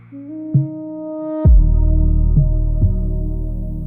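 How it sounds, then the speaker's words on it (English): A heartbeat sound effect in a late-night R&B track: a few deep, soft thumps land at uneven intervals beneath sustained, humming synth tones and a swelling sub-bass. "Heartbeat."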